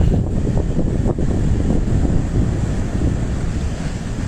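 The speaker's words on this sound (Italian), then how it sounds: "La furia del mare siciliano." Rough Sicilian sea in Messina province, with waves surging against the shore and strong wind buffeting the microphone, a loud, continuous roar with no voices.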